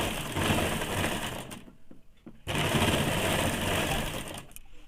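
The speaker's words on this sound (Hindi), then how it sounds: "इस प्रकार से पूरे में चाप सिलाई चला देंगे" A sewing machine runs steady stitching along a saree blouse, a fast, even mechanical whir in two long bursts with a short pause between, close and clear.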